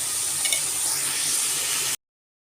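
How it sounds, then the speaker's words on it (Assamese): Chopped onion, garlic, ginger and tomato fry in hot oil, a bright steady sizzle with a brief stir scrape early on, cutting off abruptly after about two seconds. "ইয়াত আকৌ পিঁয়াজ নহৰু আদা আৰু বিলাহী আছে, এইখিনি মই কেঁচা গোন্ধ যোৱালৈকে ভাজি লওঁ।"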